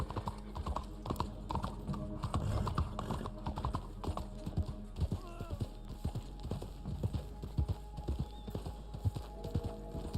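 A trader horse in the Red Dead Online video game clip-clops at a steady walking rhythm, with close computer keyboard typing and clicks mixed in, and a faint whinny partway through.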